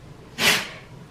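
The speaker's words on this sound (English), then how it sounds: "my dog sneezed" A single short, sharp sneeze from a dog, close by and brief, against quiet background.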